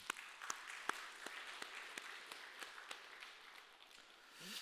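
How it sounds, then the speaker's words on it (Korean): A church congregation at a Korean service in Hawaii claps in steady, even applause that continues throughout at a fairly soft, distant level, with no talking over it. "하나님께 영광의 박수를."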